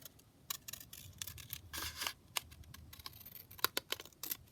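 Scissors snip out a paper piece for a folding booklet-style craft tag: a quiet run of short, irregular crisp cuts and rustles close by, with no talking.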